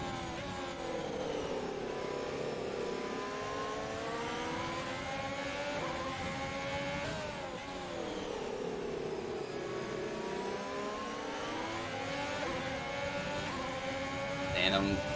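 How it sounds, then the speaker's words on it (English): Onboard engine of a GP2 race car in a racing video game, a loud sustained whine rising and falling through gear changes across the whole stretch, with commentary running over it. "Let's jump on board with his teammate. You see Croce twitching the car just a bit."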